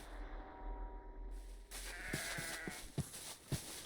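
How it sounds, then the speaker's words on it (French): A Minecraft sheep bleats amid the game's ambience, a soft low sound giving way to a series of short, evenly spaced clicks or steps with no talking. "Il y a juste un mouton qui a décidé d'enlever l'ambiance."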